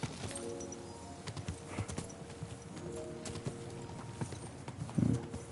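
Horse hooves clip-clop steadily at a walking pace in the medieval role-playing game Kingdom Come Deliverance 2, a quiet rhythmic clatter with faint ambient tones and a brief snort near the end.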